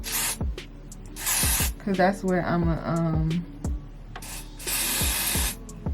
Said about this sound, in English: I'm spraying it in between